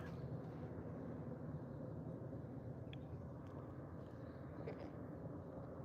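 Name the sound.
airplane flying overhead on approach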